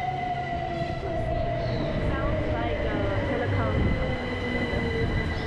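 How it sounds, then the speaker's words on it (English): A British Rail Class 357 electric train pulls into a small London terminal station, its wheels squealing steadily over a low rumbling roll, loud and close throughout. "And here is our train coming in. It's a British Railway Class"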